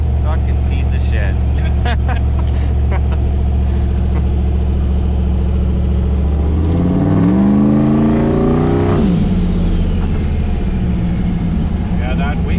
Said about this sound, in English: that wastegate is definitely That loud